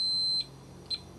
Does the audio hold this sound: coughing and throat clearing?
no